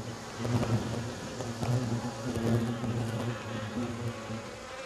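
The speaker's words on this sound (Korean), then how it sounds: "말벌도 지금 여기 한 마리 좀 들어가 있거든요" A hornet trapped inside a trap buzzes steadily and close, a continuous droning hum with a few louder swells, no voices present.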